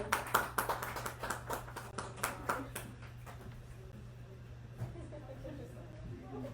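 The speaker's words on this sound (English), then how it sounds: "The more poems you read, the more times we will clap for you." A small audience applauds after a poem reading at a writing event. A burst of quick, dense hand claps rises loud and then thins to a few scattered taps and faint murmuring.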